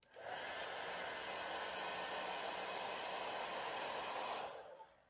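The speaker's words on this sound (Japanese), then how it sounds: "ちょっとドライヤー音大きくなっちゃうんですけど、本当に風がこれ何もしてない状態です" A hair dryer blows on strong setting at close range, a steady loud whooshing hiss that starts abruptly, holds for about four seconds and cuts off, with no talking.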